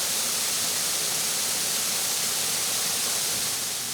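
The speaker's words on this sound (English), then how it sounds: "the noise of water falling just might be the biggest hit" A West Virginia waterfall pours down in a constant broadband rush. The roar stays even and unbroken from start to finish, and no voices are heard.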